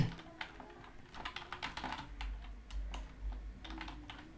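Rapid clicking of a computer keyboard as code is typed, steady irregular keystrokes close up and fairly quiet over a low background hum, with no talking.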